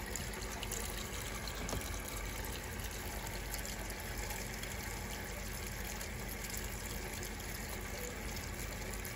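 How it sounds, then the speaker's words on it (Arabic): A washing machine fills its drum with water, producing a steady, faint, continuous rush and gush of flowing water with no pauses. "الغساله بتوزن الحاجه الهدوم، وتبتدي ان هي تنزل ميه على قدها"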